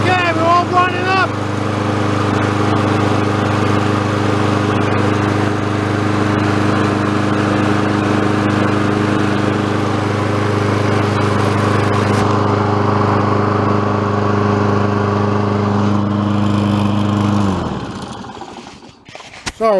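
A Kohler engine on a Toro lawn mower, freshly fitted with a new carburetor, runs steadily and loud at close range with a strong low hum, then cuts off near the end.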